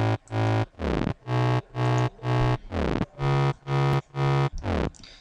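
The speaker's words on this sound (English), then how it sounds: "solo just the bass line and the mute kick." A soloed, distorted electronic bass line in FL Studio, pumped by a muted sidechain kick, chopping into about ten loud, rhythmic bursts with short gaps between them.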